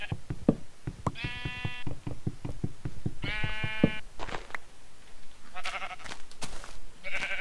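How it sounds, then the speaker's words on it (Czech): Sheep in the video game Minecraft bleat in short, nasal, repeated calls over a quick rhythmic tapping and clicking of gameplay. Several bleats come close together, loud and near, with no talking over them. "Ovečky. Ovečky."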